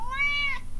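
Single recorded cat meow played from a Human-To-Cat Translator phone app, a short rising then falling call, loud and close with no voices over it.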